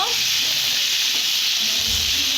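Vegetables sauté with salt in a pan, a loud steady hissing sizzle close by, broken only by a faint low thump near the end.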